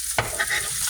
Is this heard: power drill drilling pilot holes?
no